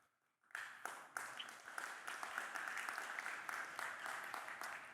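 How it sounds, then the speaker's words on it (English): Audience applause at a tech company keynote bursts in after a brief silence and carries on as steady, dense clapping from a large crowd, fairly quiet overall and unbroken to the end. "There was a pause for applause in the slides with a question mark after it"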